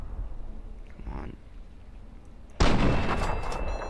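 Gunfire in Fallout 3 erupts suddenly after a quiet stretch, a loud close burst of shots with a ringing, sustained tail.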